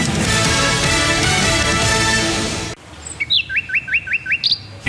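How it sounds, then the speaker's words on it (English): Little birds chirp in a garden, a series of about six quick, bright rising tweets in an even rhythm, heard alone and close after a loud burst of other sound cuts off. "Hear that? The sound of adorable little birds in your garden."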